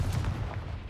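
A Confringo fire spell blasts in the Hogwarts Legacy video game, a loud, dense burst of booming explosive energy with a heavy low rumble sustained through the whole second, close and alone.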